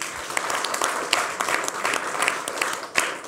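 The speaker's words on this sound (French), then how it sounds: "On peut l'applaudir aussi." Studio audience on a French TV talk show applauding a guest, a lively burst of many hands clapping with sharp individual claps standing out, steady and fairly close throughout.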